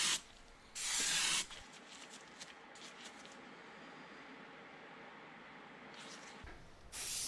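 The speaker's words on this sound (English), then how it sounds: "I'm going to hit this thing with a clear coat, a transparent base" Aerosol can spraying a transparent clear coat onto a handmade jerk bait lure, two short bright hissing bursts at the start and end, with faint quieter rustling in between.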